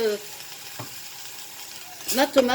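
Onions frying in a pan for a three-cheese pizza give a soft, steady sizzle, with a faint clink partway through and a voice talking over the last second.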